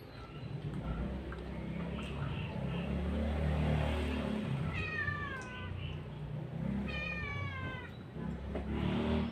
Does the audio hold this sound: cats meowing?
yes